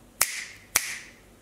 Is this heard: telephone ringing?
no